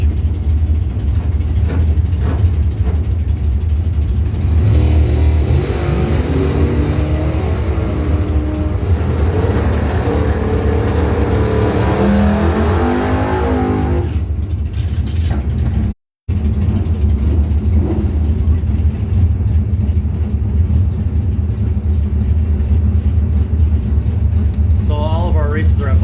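A 1985 Cutlass and a Mustang at a drag racing event roar with loud, continuous engine rumble and revving, heard close and sustained throughout while an announcer talks over the noise.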